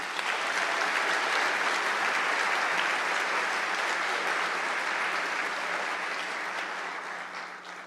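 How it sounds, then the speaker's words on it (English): Sustained audience applause fills a hall after a call to thank the people who made an author's evening event possible, steady and dense throughout before tapering slightly at the end, with no talking over it. "I would love a round of applause for all the people who made tonight possible."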